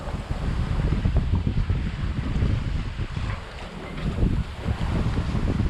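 Sailboat under way off Grenada near Point Salines, with steady loud wind buffeting the microphone over the rush of waves and water along the hull, continuous and without talk.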